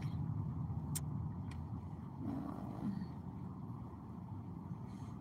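Car travelling in road traffic during a road trip, a steady low engine and road rumble heard from inside, with a couple of faint ticks, quiet and continuous with no talk.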